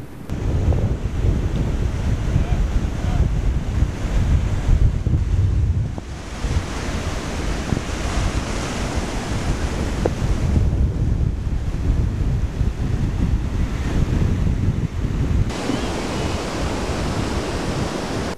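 Ocean waves washing up and draining back on a beach, a steady loud roar of surf with slow swells of swash and backwash, heavily buffeted by wind noise on the microphone throughout.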